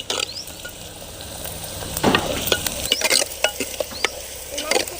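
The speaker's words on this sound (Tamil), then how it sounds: "சீரகம் நல்லா பொரியுது." Cumin seeds and browned onions sizzle in a hot pan, a steady close crackle broken by scraping stirs and little pops, with no talking.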